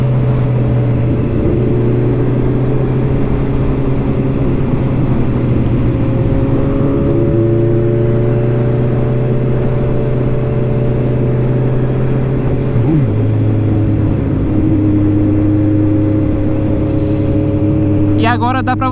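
A motorcycle engine with a quick shifter runs steadily with a droning, shifting pitch, a brief quick gear change partway through, under continuous talking.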